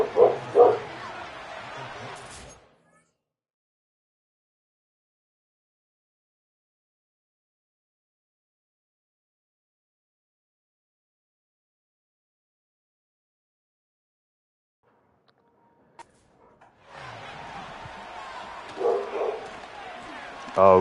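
Dog barking and yipping indoors in short bursts at the start and again near the end, separated by a long silence, moderately loud and close.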